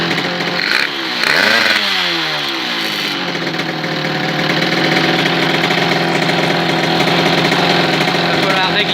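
Motorcycle-type engine idling steadily and close by, with a brief rev and falling pitch early on before settling into a continuous, slightly uneven idle that still needs adjusting.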